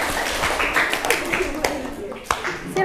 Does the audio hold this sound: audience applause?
yes